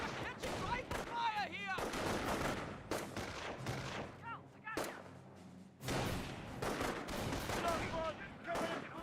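Bursts of MG-42 machine gun fire from inside a garrison in Company of Heroes, a World War II strategy game, crackle repeatedly amid other battle gunfire while someone talks over the top.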